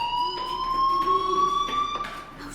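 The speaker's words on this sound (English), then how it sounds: "Hey, do you hear that fire alarm?" A fire alarm in the video game Life is Strange rings with a steady, piercing electronic tone, held continuously at moderate loudness with faint background noise.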